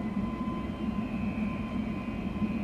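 A Boeing 737 MAX 8 in a flight simulator, its jet engines giving a steady, faint, even drone with a thin whine riding on top, unbroken and with no talk.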